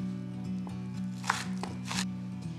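A knife chops a Scotch bonnet pepper on a board in a home kitchen, making a quick run of crisp taps over a low steady hum, with no talking.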